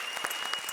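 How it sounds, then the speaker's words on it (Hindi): Enthusiastic studio audience applause at a televised Indian comedy show, a brief, steady burst of clapping heard alone, moderately loud and evenly sustained. "जोरदार तालियां"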